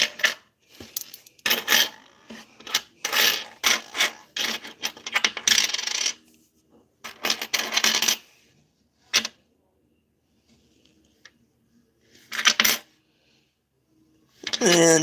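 Pennies from coin rolls are handled and dropped in clustered bursts of bright metallic clinks and jingles, close and loud, separated by quiet gaps, with a voice speaking briefly among them.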